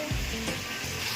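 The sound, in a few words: vegetables frying in oil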